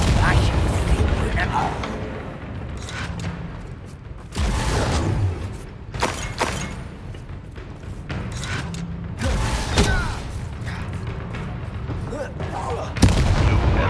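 Bombarda explosion spells in the game Hogwarts Legacy go off as repeated booming blasts with crackling debris and mechanical clatter, bursts spaced irregularly over several seconds while a character speaks between them.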